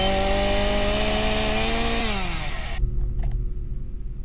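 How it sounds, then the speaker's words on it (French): A droning chainsaw in the video game Trollge Incident #10 roars steadily at close range, its pitch dropping as the engine bogs down, then cuts out, leaving faint clicks and rumble. "Tu lui plantes dans le crâne à une tronçonneuse,"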